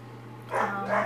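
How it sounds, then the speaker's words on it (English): Two muffled barks from a dog in the background, a short pause between them, over a low steady hum. "I don't know if you guys can hear my dog barking."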